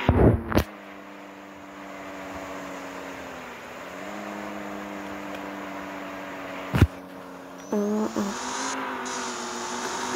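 A Kia Quick car in the game Sport 3 revs and accelerates with a steady engine whine that dips and climbs, broken by a couple of sharp impact clicks and a brief braking squeal near the end.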